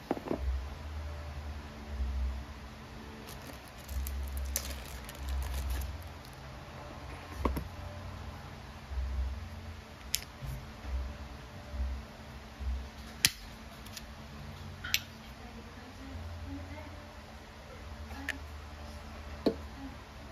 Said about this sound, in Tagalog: So loadan natin ng CO2.